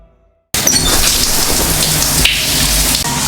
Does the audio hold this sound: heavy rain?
yes